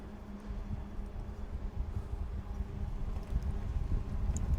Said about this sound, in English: Oh, it's windy down here.